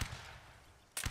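Musket volley fire in the Napoleonic Wars video game: a faint rumbling echo fades out, then a sharp, loud burst of massed shots cracks out near the end.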